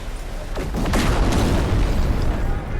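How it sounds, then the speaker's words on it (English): A pirate attack in the No Man's Sky video game sets off a deep, rumbling explosion, with several bursting blasts in quick succession that swell into a sustained loud roar, heard with no voices. "Everybody likes explosions and stuff."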